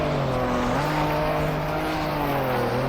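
A rally car in the Trackmania video game drives along an ice slide, its engine holding a steady, loud droning note with slight pitch shifts throughout and no talking.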